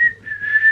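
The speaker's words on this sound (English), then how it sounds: "yeah, I can whistle like that" A person whistles a brief, clear, close tone in two short phrases, slightly rising and wavering, loud and alone.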